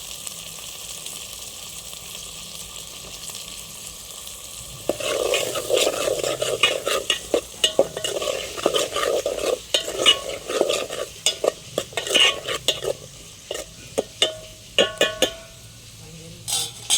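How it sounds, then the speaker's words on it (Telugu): Broad beans and onions sautéing together in a pan for a country chicken curry, a quiet background hum before a louder sizzle starts around five seconds in, with repeated sharp scraping and clinking strokes of a spoon stirring against the pan. "ఇప్పుడు చిక్కుడుకాయలు వేసుకొని మగ్గించుకుందాము."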